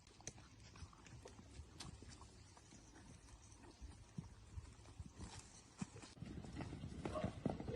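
Horses let out for a run around, hooves clip-clopping on the ground in a steady, uneven patter over a few seconds, with a dog and faint whinnies in the background and some talk nearby.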